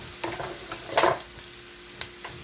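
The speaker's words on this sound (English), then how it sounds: "These little things are really handy for chopping up your chunks." Scraping and clacking of a meat chopper breaking up sausage in a sizzling pan, with one louder chop-like scrape midway over steady frying hiss.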